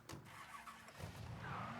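Car door and engine sounds from a vehicle in the video game Mafia 3, a continuous mid-level mechanical whir and rumble with a rising tone toward the end, no talking.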